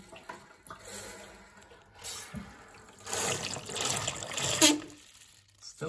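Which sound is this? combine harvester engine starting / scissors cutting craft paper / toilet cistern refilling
toilet cistern refilling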